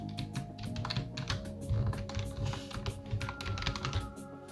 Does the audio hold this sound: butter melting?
no